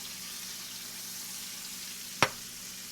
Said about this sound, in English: I'm going to start with maybe a couple tablespoons of butter on there.